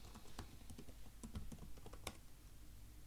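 A password being tapped out on a computer keyboard during a Linux setup, with quiet, irregular clicky keystrokes in short clusters and a few sharper key presses, no voices.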